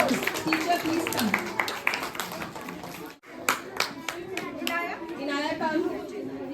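Children and adults at a school Environment Day quiz competition clap steadily for the participants, a dense, continuous patter of hands with chatter and young voices mixed in and a brief lull midway.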